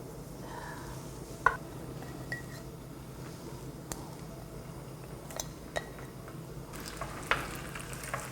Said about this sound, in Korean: 이제 떡을 기름에 한번 볶아 보도록 하겠습니다.